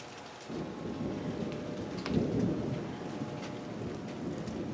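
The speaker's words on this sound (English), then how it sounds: "We just had some rolling thunder." A low, rumbling roll of thunder swells and fades over steady rain, moderately distant and continuous for several seconds.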